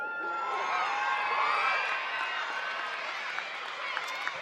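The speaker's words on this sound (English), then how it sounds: "Let's have a big round of applause for Jess Hull." Stadium crowd at an athletics track meet in Sydney cheers and applauds a distance runner, a steady dense roar with scattered whoops and claps throughout, loud and continuous.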